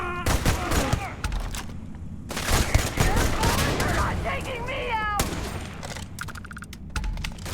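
Rapid gunfire in the space shooter game Starfield: several fast bursts of sharp shots, close and loud, broken by short pauses, while someone talks in between.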